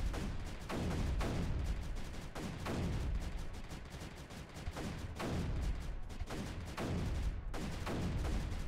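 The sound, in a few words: mortars firing in video game Creeper World 3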